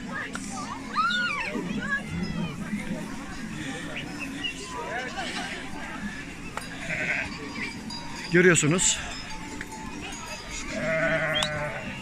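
Goats bleat in short wavering calls on a highland summer pasture at Dikmen Yaylası, with children playing nearby and someone talking over much of the scene against steady outdoor ambience.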